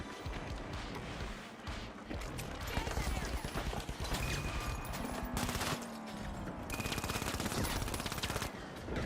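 Bursts of rapid automatic gunfire in the video game The Finals crackle through a busy mix of game effects, with short gaps and dense volleys, while a voice is heard in the background.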